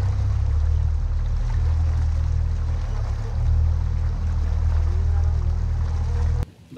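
A motorboat heads out across Tyrifjorden toward a race start, its engine a loud, steady low drone against wind and water that cuts off abruptly near the end.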